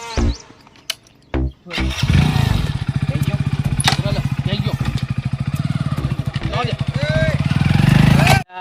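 A motorcycle engine cranks, catches and revs loudly, then rumbles steadily nearby before pulling away, with a voice speaking over it at the start.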